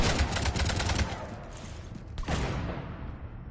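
Rapid gunfire strikes a ship in Mass Effect 3, a fast rattling volley of close, loud shots for about a second, then a few more scattered impacts and a sharp crack as the noise fades.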